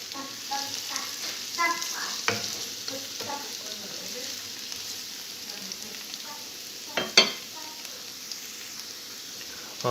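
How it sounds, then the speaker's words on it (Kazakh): Potatoes crackle and sizzle steadily in a frying pan, heard up close. Occasional clinks and scrapes of stirring break through, with faint speech now and then. "картошкамыз почти қуырылып болды"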